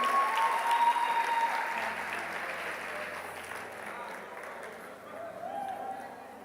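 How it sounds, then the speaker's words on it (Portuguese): A church congregation applauds for a sermon's closing appeal, a broad steady wash of many hands clapping at moderate distance that slowly thins, with some voices mixed in underneath. "Quantas mulheres podem aplaudir o Senhor aí por esses homens reparadores?"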